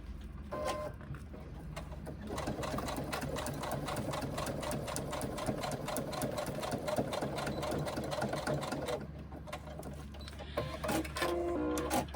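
A sewing machine stitches a small on-the-go pouch in a quick, even mechanical chatter that runs for most of the stretch, stopping briefly near the end before starting again.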